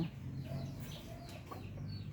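A stray chicken taken in to be cared for clucks faintly and softly against quiet background noise.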